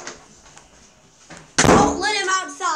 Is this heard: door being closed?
yes